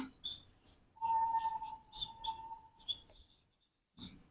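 Marker or chalk strokes squeak and scratch across a classroom board in short bursts, with one longer drawn squeal, close and clear in an otherwise quiet room.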